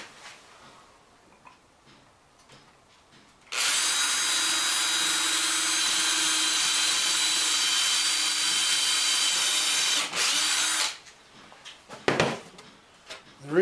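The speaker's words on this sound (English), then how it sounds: "I'm going to go in and pre-drill a bit of an angle" A power drill pre-drills an angled pilot hole into hard wood for 3-inch wood screws, one steady high whine lasting about seven seconds, close and loud, with a brief restart near the end and quiet handling noise around it.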